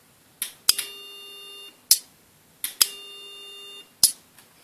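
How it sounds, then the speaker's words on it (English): A heavy-duty relay on a capacitor bank's bleed resistor circuit snaps in with sharp clicks, followed by a sustained electronic tone that stops abruptly with another click, the whole pattern repeating twice up close. "you can hear that one click when I push the button."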